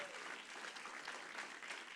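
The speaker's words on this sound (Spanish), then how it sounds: "Un aplauso fuerte para ellos." Church congregation applauding visiting guests, a dense, sustained round of clapping from a crowd, faint and distant, continuing steadily throughout.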